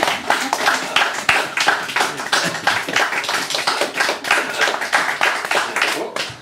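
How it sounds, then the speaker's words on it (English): Audience clapping after a stand-up comedy set, a brisk run of individual hand claps with some uneven rhythm, close and fairly loud, sustained for several seconds before tapering. "So more applause, please."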